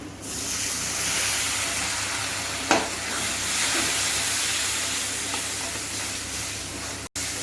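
Water goes into a pan of frying cumin, coriander and red chilli masala, and a loud steady hiss and sizzle follows with a brief clatter near the middle and no talking.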